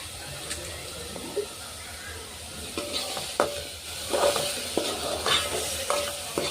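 Chicken curry simmering in a pan with chili powder, garam masala, coriander and mint, giving a soft, steady sizzle broken by several sharper scrapes and clinks of stirring close by, with no talking.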